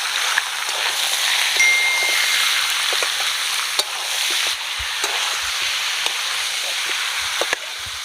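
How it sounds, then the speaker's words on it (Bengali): Chicken frying with onion, ginger and garlic for tehari, a loud steady sizzle with occasional spatula clicks and stirring scrapes throughout. "মাংসটা কিন্তু পেঁয়াজ আর রসুনের সাথে ভালো করে একটু ভেজে নিতে হবে"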